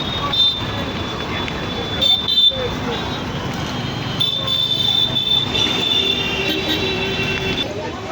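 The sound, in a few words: metro train at Howrah Maidan station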